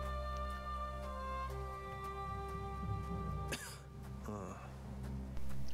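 A person clears their throat and coughs near the microphone, a short harsh burst rising over quiet background game music and effects.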